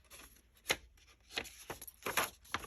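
Paper being cut by hand for a Victorian-style notebook, heard as a series of short crisp snips and rustles spaced irregularly, close and fairly quiet, with no talking.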